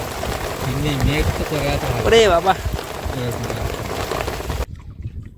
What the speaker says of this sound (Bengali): নৌকায় বসে অপেক্ষা করছিলাম আর তুমুল বৃষ্টি কি অবস্থা আধ ভেজা ভিজে গেছি সব হেভি জোরে বর্ষা